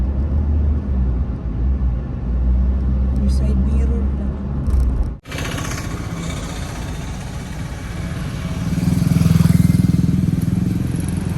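A motorcycle engine rumbles at night, a continuous low drone that swells louder toward the end, with people talking over it.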